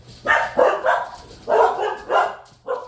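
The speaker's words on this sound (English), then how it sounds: "I'm dog sitting. And there's another dog outside." A dog barks while being dog-sat: a burst of six loud, close barks in an uneven rhythm, with no talk over them.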